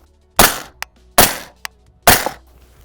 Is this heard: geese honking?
no